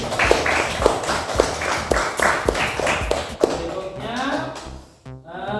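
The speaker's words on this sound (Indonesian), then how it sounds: "silakan tepuk tangan untuk kelompok 1" Classroom applause for a student group, with a dense, steady patter of many hands clapping close by for several seconds before thinning out, while a voice speaks over the end.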